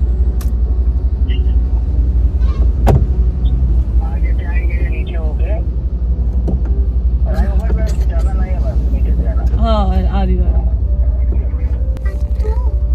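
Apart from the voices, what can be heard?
car traffic at night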